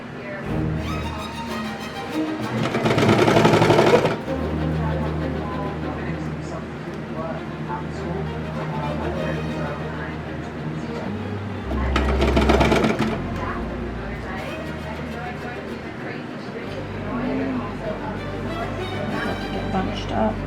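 A sewing machine stitches through several layers of thin pumpkin-print fabric on a kids' raglan T-shirt (Simplicity 9205). It hums steadily with two louder, faster bursts of stitching partway through.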